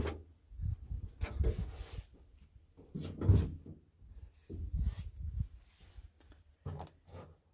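A door in a 2020 Citroen Berlingo XL camper being unhooked and folded down, producing a series of close clunks, clicks and knocks of plastic and metal fittings spaced irregularly across the interior.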